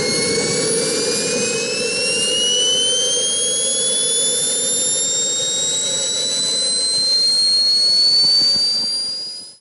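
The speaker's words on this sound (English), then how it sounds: "let's reduce the turbine sound with the audio mixer so you can hear me much better" A JetCat V12 model jet turbine runs steadily at close range, a loud continuous roar with a high whine that slowly climbs in pitch, holding for nearly ten seconds before cutting off abruptly.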